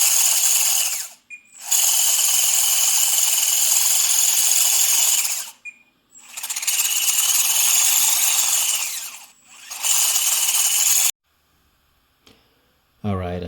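A right-side track motor on a Lesu 850K toy bulldozer, reassembled after an upgrade, runs with a loud, steady high-pitched screech in three long bursts separated by short pauses, then cuts off into near silence with a brief faint noise at the end.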